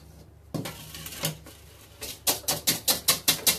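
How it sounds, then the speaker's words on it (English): Whisk beating egg whites for a gluten-free lemon almond cake batter in a bowl, a fast run of sharp, evenly spaced clicks against the bowl, close and clear with no talking. "So now I'm going to finish whisking these up."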